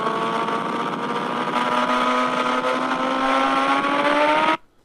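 Speeding BMW car and Batman's Batbike motorcycle engines roar loudly and steadily, the pitch slowly climbing as they accelerate, before cutting off abruptly near the end.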